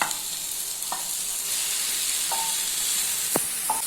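Minced mutton keema frying in a pan over a low gas flame gives a steady, bright hiss broken by a few brief clinks of stirring.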